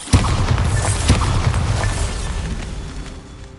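A Bombarda spell explosion from Hogwarts Legacy: one sharp, heavy boom at the start, then a second thump and a long rumbling debris tail that slowly fades. No talk.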